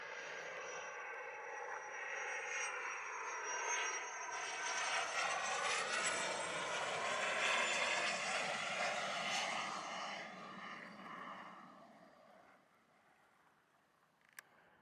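An airplane landing at Montego Bay airport in Jamaica, a loud jet roar that swells to a peak midway then fades away into quiet, heard from nearby outdoors with a brief click at the end.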